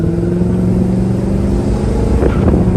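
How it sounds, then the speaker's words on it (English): A 1967 Pontiac GTO running under load, its engine a loud, continuous rumble close by with a brief rougher grinding burst near the end as second gear scratches going in. "Yeah, second gear scratch."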